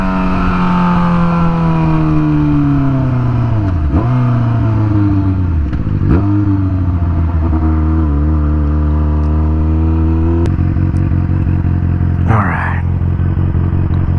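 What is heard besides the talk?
Yamaha FZ6R motorcycle engine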